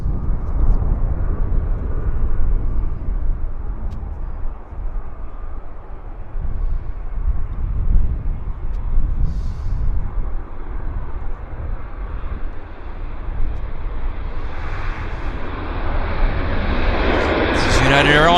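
A United Airlines airliner inbound from San Francisco rumbles low and continuously over Vancouver Airport, its engine noise swelling louder toward the end.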